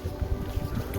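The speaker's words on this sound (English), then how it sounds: "It's a little windy" Wind buffets a microphone in low, gusty rumbles, blowing steadily and close throughout.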